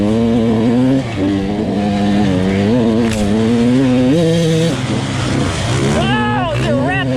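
Husqvarna TC 85 dirt bike with its carburetor jetting under test, engine buzzing loudly and steadily throughout with rising and falling revs, a sharper rev burst near the end, a voice talking over it.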